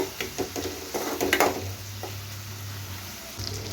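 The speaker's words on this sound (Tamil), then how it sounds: "இப்போ கட் பண்ணி வச்சுருக்க தக்காளி சேர்த்து தக்காளி நல்லா குழஞ்சி வர வரைக்கும் நல்லா வதக்கணும்" Tomatoes sautéing in hot oil for a village-style dry fish thokku, a steady low sizzle with a few louder stirring clatters early on, close and without talk.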